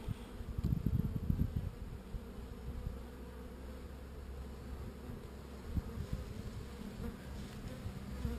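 Honeybees buzz in a dense swarm near hornets at the hive, a close, continuous hum with a louder rustling flurry early on and occasional brief bumps.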